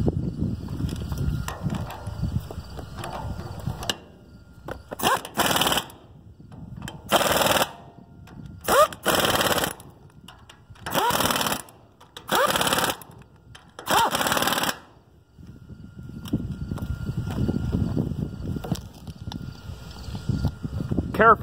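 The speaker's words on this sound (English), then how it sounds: "I always torque them with the impact" An impact wrench torques the wheel bolts on an old grain cart in about six loud, sharp bursts of roughly a second each, spaced by short pauses, with outdoor wind and rumble before and after.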